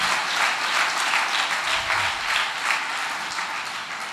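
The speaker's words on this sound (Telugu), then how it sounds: "ప్రతి స్థలములో నీ వద్దకు వచ్చి ప్రభువుకు చప్పట్లు కొట్టండి" A church congregation at a New Year night service claps for the Lord in loud, sustained applause, a dense crowd of hands filling the room without a break.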